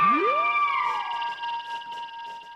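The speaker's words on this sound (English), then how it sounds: "So this last sound I added is called beam because it sounds like a laser beam." A synth sample called beam sounds like a laser beam: a single brief tone sweeps quickly upward, then settles into a bright sustained buzzing pitch that fades over a couple of seconds.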